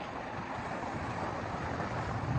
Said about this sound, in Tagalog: Ayan o, galit na yung alon. Tumataas na kasi tubig.